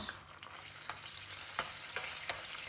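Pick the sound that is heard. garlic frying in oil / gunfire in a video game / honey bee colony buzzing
garlic frying in oil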